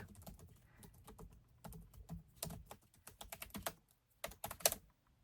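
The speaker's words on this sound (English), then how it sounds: "You hear me typing away?" Close-up clicking of a computer keyboard, with quick irregular bursts of keystrokes and short pauses in a quiet room.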